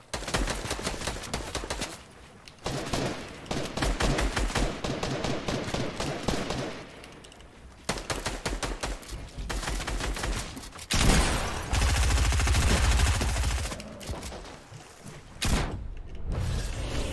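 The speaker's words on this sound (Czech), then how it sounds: "Kámo, to je, co to je za zbraň? To je drum gun, ne?" Rapid bursts of drum gun fire in Fortnite, repeated loud automatic volleys separated by short pauses, with a heavier rumbling stretch near the end.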